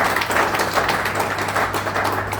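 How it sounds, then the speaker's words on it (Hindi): Dense, steady applause from an audience during a product demonstration, with clapping continuous and fairly loud throughout and no voices on top. "तो एक बार जोरदार तालियां इसके लिए"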